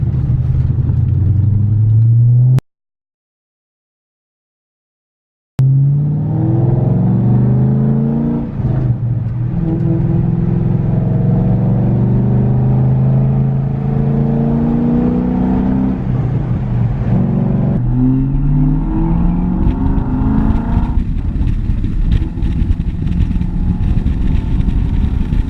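A Cadillac CTS-V's engine rumbles and revs through a long stretch, rising and falling with acceleration, loud and close, broken by a brief silent gap, with no talking over it.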